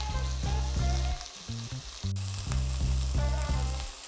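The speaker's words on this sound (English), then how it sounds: "Start frying the meat in small batches." Meat sizzles and crackles in hot olive oil in a stainless steel pan, a close, steady frying hiss with rhythmic scraping and stirring knocks throughout.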